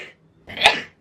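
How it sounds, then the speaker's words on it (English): One close, explosive human sneeze with a short breathy intake just before it, sharp and loud at its peak, then trailing off quickly into silence. "I'm gonna sneeze."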